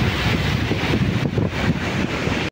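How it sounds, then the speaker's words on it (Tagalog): Steady roaring surf from strong waves at Calicuan Beach, Guiuan, Eastern Samar, heavily buffeted by wind noise on the microphone, continuous and loud. "Malakas na yung alon."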